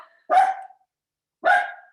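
Two loud, sharp barks from dogs, spaced about a second apart, ringing out alone against silence indoors.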